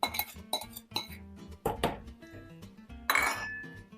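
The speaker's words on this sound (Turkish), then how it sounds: "Şöyle bir karıştıracağım." A metal spoon stirs orange juice and orange peel into a sugar mixture in a bowl, giving a series of bright clinks and scrapes against the dish in uneven bursts, close and fairly quiet, with no talk.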